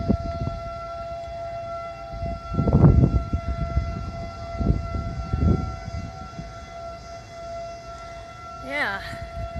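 Steady, droning tornado-warning civil defense siren wailing outdoors near an art building, heard at a distance under occasional voices and nearby footsteps or movement.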